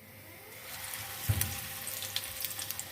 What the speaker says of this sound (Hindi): पकोड़ों को फ्राई कर लेते हैं।